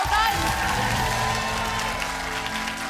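Studio audience applauding two school quiz teams after the scores are read on a televised quiz show, a steady close wash of clapping with a few whoops, mixed with someone talking over it.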